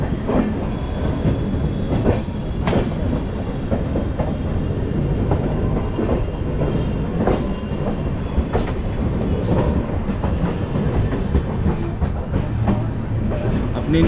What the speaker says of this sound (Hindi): अपनी निर्धारित समय से 20 मिनट का डिले के साथ में अपनी ट्रेन डिपार्चर ली है आसनसोल रेलवे स्टेशन से।